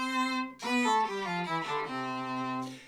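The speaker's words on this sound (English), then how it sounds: "function on most pitch shifters is that it will play your actual pitch and the octave down," Electric violin through a pitch shifter blending the played pitch with an octave below, a short bowed phrase of sustained notes heard clearly on its own.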